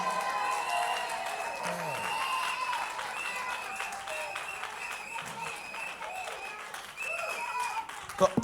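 An audience at a women-in-ministry church conference applauds and cheers in a steady, sustained wash of clapping, with a voice carrying over it throughout.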